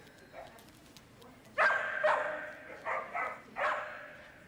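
Several rescued shelter dogs in a prison training program bark in a few short bursts at moderate distance, with louder clustered barks separated by brief pauses over quiet room noise.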